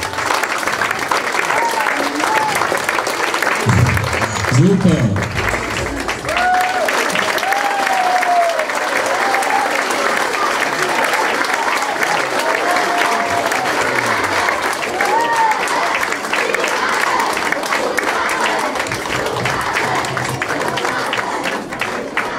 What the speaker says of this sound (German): Holt euch auch einen Applaus ab.